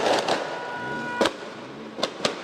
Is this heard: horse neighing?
no